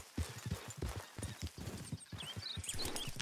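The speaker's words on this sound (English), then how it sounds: "I heard hooves." Horse hooves clop in a quick, uneven rhythm on hard ground in the video game Red Dead Redemption 2, fairly close, mixed with light rustling and a few faint chirps.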